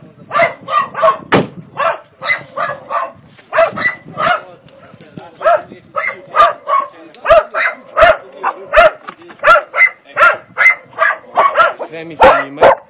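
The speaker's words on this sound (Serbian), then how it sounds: "Znači ima četiri psa." Four dogs trapped in floodwater bark repeatedly in loud, close bursts, some yelping higher, while people talk in between.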